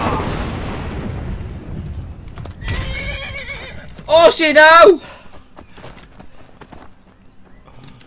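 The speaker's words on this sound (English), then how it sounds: "Watch out, they're bloody combat horses." Combat horses in Skyrim whinny loudly in two sharp, high neighs, with hooves clopping and thuds beneath; an explosion-like rumble fades at the start, and someone shouts in alarm over the sounds.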